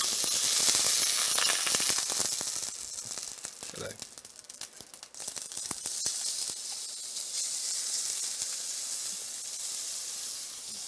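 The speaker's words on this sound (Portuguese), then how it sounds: "Então a panela já está ligada aqui. Vamos colocar um pouquinho de azeite de urucum." Annatto oil sizzles in a hot pan, a bright steady hiss that dips briefly in the middle and then returns, with faint kitchen clatter.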